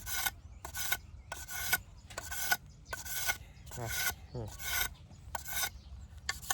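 Wood being scraped smooth for a kite frame, heard as about nine rhythmic close rasping strokes separated by short pauses.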